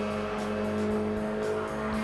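A Porsche 919 Evo hybrid Le Mans prototype race car drives past, a steady loud engine drone with a strong low hum and some tire hiss through a couple of seconds.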